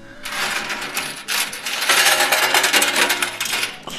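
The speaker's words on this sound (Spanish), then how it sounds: "Suenan bonito las monedas cuando caen" Coins clatter and cascade in a coin pusher arcade machine, a dense, continuous run of bright metallic clinks and jingles that swells louder toward the end.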